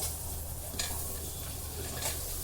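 Green chili and curry leaves fry in hot oil over a low flame for a spicy Agri-style mackerel curry, giving a steady, close sizzle throughout with a couple of faint utensil clicks.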